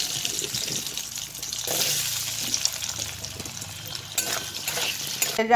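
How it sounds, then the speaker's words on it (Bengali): Potatoes coated with salt and turmeric fry in a pan, a steady close sizzle with stirring scrapes, splashes and clatter of utensils, ending in a sharp clack. "তো বন্ধুরা যে আলুগুলো ভাজি নিই।"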